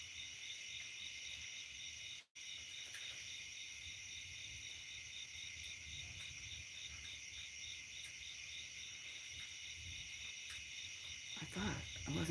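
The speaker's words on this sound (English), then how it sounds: "You may be able to hear the cicadas and the frogs right now." Cicadas and frogs calling outdoors on a hot, humid evening with thunder nearby: a steady, high, pulsing insect drone runs continuously at moderate level, briefly dropping out once, with low croaking and faint background sound beneath.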